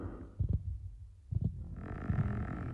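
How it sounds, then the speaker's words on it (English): The Warden's heartbeat in Minecraft: deep, muffled double thumps, close and loud, repeating about once a second, with a low droning ambience rising behind the last beat. "we can hear the heartbeat now"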